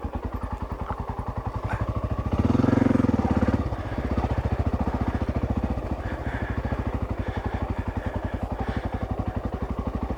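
A dirt bike engine lugs at low revs in second gear on an obstacle-filled off-road trail at Parker Flat, with a steady pulsing thump, a brief louder throttle surge near the start, then a return to the chugging beat.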